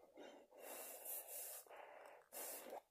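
Heavy breathing through a mechanic's dust respirator converted for COVID-19 protection: close, loud, hissing inhales and exhales alternating in a steady rhythm, about three breaths, with no talking.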